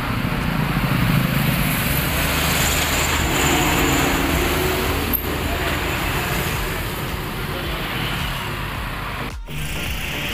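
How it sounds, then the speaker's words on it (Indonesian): A Prima Jasa bus on the Lebak Bulus route passes along a busy road at Pangkalan Ciperna, its engine and tyre roar steady and loud amid continuous traffic noise. "ada bus Prima Jasa Lain Lebak Bulus"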